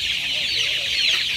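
Dense chorus of young chicks clucking and peeping together in a poultry house, a steady continuous chatter from about a thousand birds, close and loud throughout.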